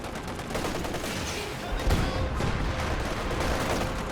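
Machine gun fire in Company of Heroes 2 keeps up as a dense, steady rattle of battlefield gunfire with no clear pauses, fairly loud throughout.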